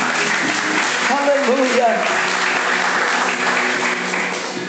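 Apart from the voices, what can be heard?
church congregation applause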